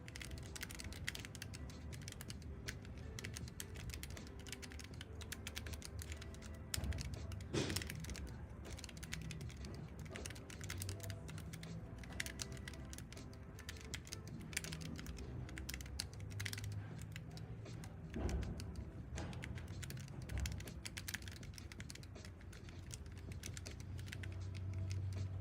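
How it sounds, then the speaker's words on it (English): Continuous rapid typing on a computer keyboard during a speed run, a dense, even stream of close, clicky keystrokes with occasional louder taps, heard alone without speech. "You guys can hear how the keys sound."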